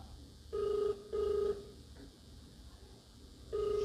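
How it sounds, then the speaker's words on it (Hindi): A telephone ringback tone plays while a call is being placed: short, evenly spaced ringing bursts repeat over a quiet background hum. "तो आइए हम फोन करते हैं।"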